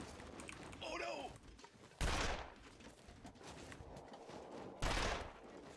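Video game gunfire with a couple of sharp, loud shots punctuating a quieter backdrop of movement and a brief voice.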